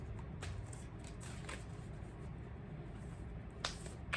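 A deck of cards is shuffled quietly, with a few short riffling bursts and soft snaps standing out against faint background hiss.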